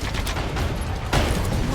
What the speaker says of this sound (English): Prepare the main battery! Fire!